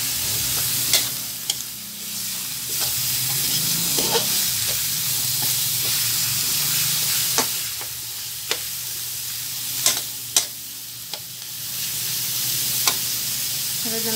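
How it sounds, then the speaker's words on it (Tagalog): Pork sizzles steadily as it sautés in a pan for a Filipino-style baked macaroni sauce, with a spoon clinking and scraping against the pan now and then over a continuous frying hiss. "Sigigisa lang natin itong baboy para masigurado natin na luto yung ating karne"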